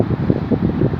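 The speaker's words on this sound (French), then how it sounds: "Désolé pour le vent, si on m'entend pas trop bien." Low, blustery wind at the beach buffets the microphone in uneven gusts, a muffled rumbling rush with no voices.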